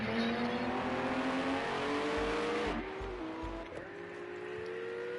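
A race car in Project CARS 2 at Brno rips past with a loud, steady high-revving engine whine that drops sharply through gear shifts, with a brief tyre squeal.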